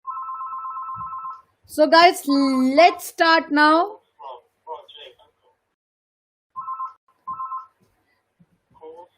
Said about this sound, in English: The phone, I know that was a phone.